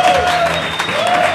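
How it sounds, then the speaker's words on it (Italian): A live band concert crowd applauds the keyboard player in a short burst of dense clapping, with sustained amplified tones ringing underneath and a faint hint of cheering. "Per il tasterista sentiamo l'applauso!"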